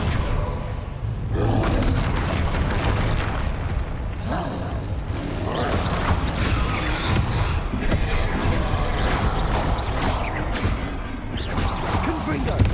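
Bombarda blast spells explode during a Hogwarts Legacy battle, with repeated booming impacts, thuds and roaring bursts. Other spell effects and shouted combat voices overlap throughout the dense, busy mix.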